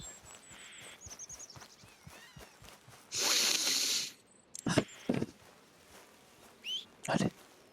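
Horse in the Western video game Red Dead Redemption, heard as a few scattered hoof thuds and brief snorting or whinny-like bursts over a quiet outdoor ambience, with someone talking intermittently.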